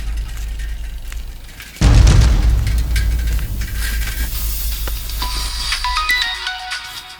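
A mobile phone ringtone rings loudly in an indoor scene, starting suddenly with a heavy dramatic boom and continuing as a dense melodic electronic tone under layered background music, with no speech.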